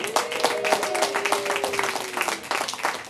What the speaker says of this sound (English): Some of you are applauding